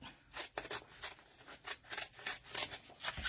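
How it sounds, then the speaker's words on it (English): Scissors cutting out paper pieces for a crafting project, a quick series of crisp snipping strokes in an irregular rhythm, close and fairly quiet with no talk. "this is just the boring part where I'm just cutting everything out"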